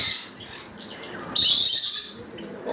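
Several birds chirp and squawk close by, with high shrill calls overlapping and a louder burst of chatter midway.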